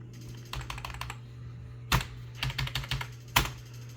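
Soft clicks of typing on a computer keyboard come in short irregular bursts with pauses between, quiet and close over a faint steady hum.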